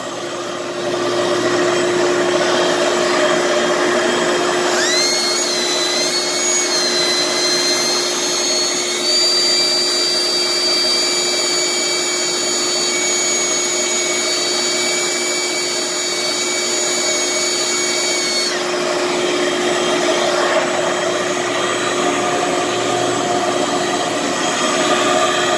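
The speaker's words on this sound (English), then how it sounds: "We're going to turn on that vacuum and we're going to give it a shot" A vacuum motor whines loudly and steadily, its pitch climbing slightly partway through before settling back to a constant drone.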